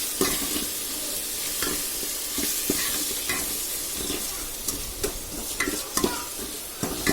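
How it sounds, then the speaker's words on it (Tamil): Sorrel leaves being stirred with salt in a hot pan, a loud, close frying sizzle with repeated scraping and tapping strokes of a utensil, growing more frequent toward the end. "போட்டு நல்லா மிக்ஸ் பண்ணிடுங்க."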